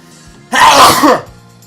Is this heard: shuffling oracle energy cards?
no